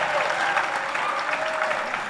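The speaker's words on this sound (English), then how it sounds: "Give her another round of applause" An audience applauding at a live music performance, a dense, steady clatter of many hands close by that keeps going without a break for the whole moment.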